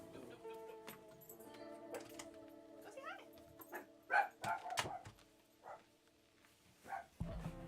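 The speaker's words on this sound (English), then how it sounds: "I'm gonna close the door because the dogs are gonna go bonkers again." Dogs indoors at the front of a house giving a few sharp barks and whimpers, intermittent bursts rising over a quiet room with a steady electrical hum, a person talking quietly between them.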